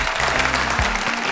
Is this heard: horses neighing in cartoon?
no